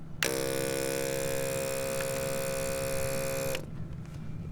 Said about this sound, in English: that's the sound of the hoover sucking water in